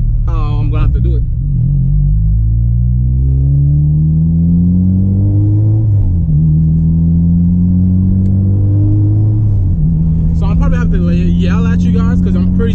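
A turbocharged Honda Civic Si on a dyno is run through a pull, its engine droning loudly and climbing steadily in pitch, dropping briefly at two gear shifts, while a voice is heard briefly at the start and the end.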